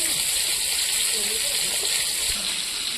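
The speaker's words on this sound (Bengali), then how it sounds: "এবার দিয়ে দেবো আমি একটু খানিকটা জল" Water poured into a pan of boiled tomatoes that have gone soft and mushy, a steady gushing hiss that runs unbroken for about three seconds.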